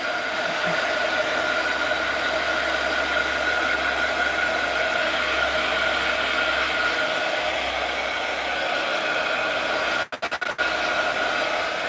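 Steady, continuous blowing whir of a dryer drying craft items, constant loudness throughout with a few brief clicks near the end.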